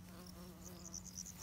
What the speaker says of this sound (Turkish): Bombus arısı. Şu an ada çaylarımızda.